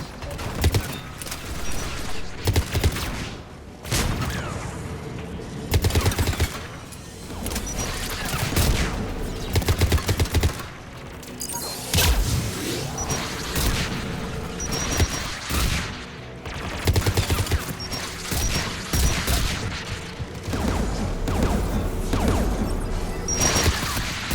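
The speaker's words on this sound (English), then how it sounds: "AA guns ahead of us." Anti-aircraft guns fire in Mass Effect 3, giving loud, sustained volleys of booming shots in dense, irregular bursts with clanking mechanical noise, continuing without a break under occasional talk.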